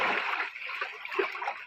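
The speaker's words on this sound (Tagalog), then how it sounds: "Parating na ang alon." Seawater waves wash and splash against a provincial shoreline close by, a short burst of frothy water that swells and then fades away.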